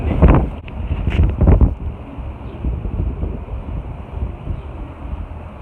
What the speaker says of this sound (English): That is crazy windy out today